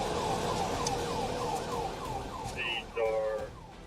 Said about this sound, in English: The suspect continued to accelerate, ignoring lights and sirens.